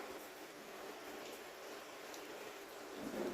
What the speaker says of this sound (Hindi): और देखो बारिश हो रही है